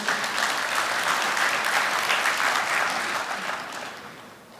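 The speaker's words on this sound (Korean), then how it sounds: "힘찬 박수로 환영해 주십시오." Dense, sustained applause from a crowd of union members at a construction workers' branch general meeting, loud and steady before tapering off toward the end, with no talk over it.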